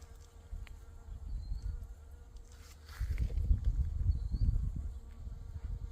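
A honeybee buzzes around heirloom rose flowers, a faint steady insect drone that grows louder and closer partway through, with no talking.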